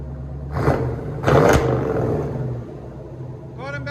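A 1984 Chevy Corvette 5.7L V8 with Flowmaster true dual exhaust and high-flow cats blips its throttle twice over a low idle rumble, then settles back, with a brief voice near the end.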